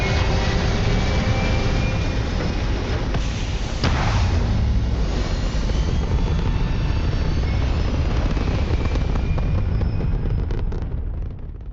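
Spaceship engines in the video game Starfield roar steadily and loudly through the whole stretch during takeoff, a dense, continuous rumble with no pause.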